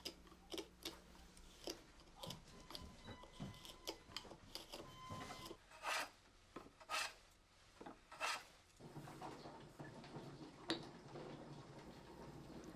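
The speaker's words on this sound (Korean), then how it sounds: "문목과 아짜 상감이 연결된 표면을 대패질로 고르게 하고 모서리를 다듬어 정리한다" A hand plane strokes repeatedly across a wooden door frame surface with inlaid decoration in traditional woodworking, giving faint rasping swipes at an irregular pace in a quiet room.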